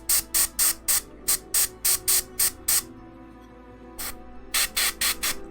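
An airbrush sprays diluted white paint onto a model helmet in short, crisp hissing bursts, a rapid, regular series of close puffs, then a pause before a few more quick sprays.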